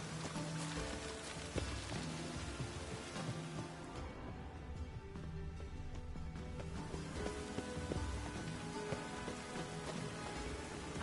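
Steady rain in a video game patters and splashes on a surface, a constant wash of droplets with scattered heavier drips, no voices.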